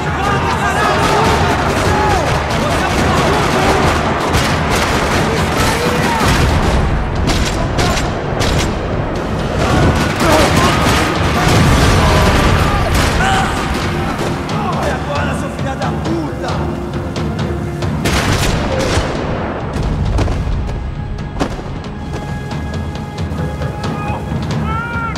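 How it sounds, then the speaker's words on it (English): Dense bursts of gunfire and booms crackle over a chaotic mix of music, effects and voices in a parking lot in Max Payne 3, loud and continuous for the whole stretch. "Another parking lot rattling with gunfire."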